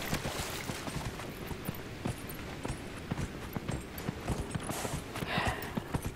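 Horse hooves clip-clop in a steady galloping rhythm while riding through the Dragon Age: Inquisition game world, regular close thuds running throughout over a faint ambient background.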